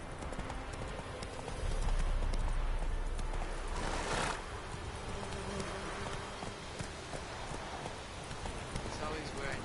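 Hooves of Roach, the horse in The Witcher video game, clip-clop steadily over a dense, noisy game soundscape with rain-like hiss, and a person talks over it.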